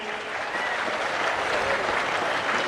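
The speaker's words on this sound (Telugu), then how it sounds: "గట్టిగా చప్పట్లు కొట్టి ఆయన అభినందించండి" Loud, steady applause from an assembled audience at a government officials' review meeting in Kalidindi, Kaikaluru constituency, sustained clapping throughout with no talk over it.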